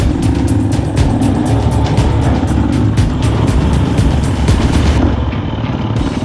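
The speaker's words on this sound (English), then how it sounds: "the best way to see the track is on a dirt bike" A dirt bike engine roars loud and close while riding through an active iron ore mine, revving continuously with rising and falling pitch and no talking.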